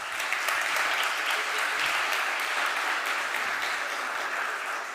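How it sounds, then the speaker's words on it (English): Sustained applause from a conference audience at a high-level event on the safety of journalists, a dense, even wash of clapping that holds steady for several seconds without speech over it. "And I think that deserves a big round of applause."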